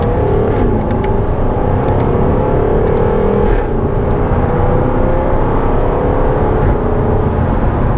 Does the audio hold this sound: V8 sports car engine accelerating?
yes